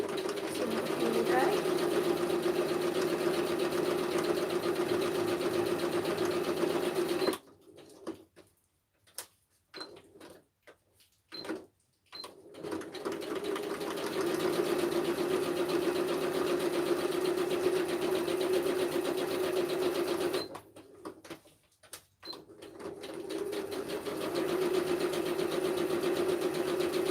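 A sewing machine stitches fabric with a fast, steady mechanical whir in long runs, stopping twice for brief pauses, with people talking over it.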